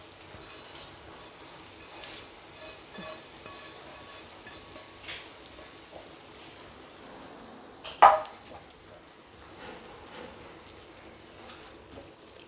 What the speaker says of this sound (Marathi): चांगल्याने मिक्स करून घेऊ आपण याच्यामध्ये मेथी